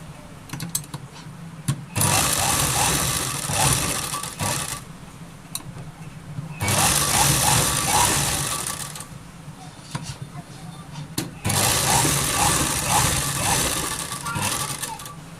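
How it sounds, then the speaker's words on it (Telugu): A sewing machine stitches fabric for blouse hangings in three loud bursts of rapid mechanical chatter, each a few seconds long, with quieter pauses between them. "తీసుకొని ఇలా మనం రెండు చూసుకొని హోల్టా వేసేసుకొని ఇలా కుట్టేసుకోవాలి నాలుగు పలకలుగా కుట్టేసేసుకోవాలి"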